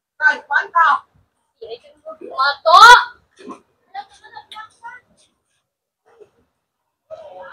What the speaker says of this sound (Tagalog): Ingay ng mga bata, ah.